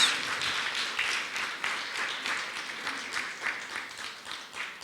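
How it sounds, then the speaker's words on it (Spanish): A church congregation claps in a steady, moderately quiet burst of applause during worship, the hand claps continuous and fairly even throughout. "Démosle un aplauso a Él"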